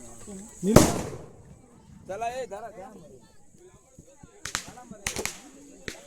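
At a Konkan Ganpati immersion procession, one loud sharp firecracker burst cracks out close by, followed later by a few smaller pops, while people talk and call out around it.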